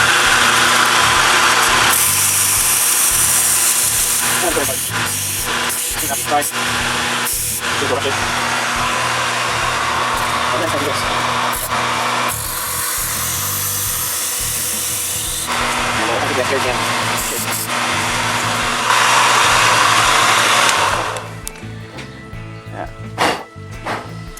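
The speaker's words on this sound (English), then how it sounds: "And I'll take it over to my little sander." Small power sander grinding a part for a 1/10 scale RC gas can, a steady loud buzzing whir running in long bursts with brief pauses and rubbing changes, before stopping near the end.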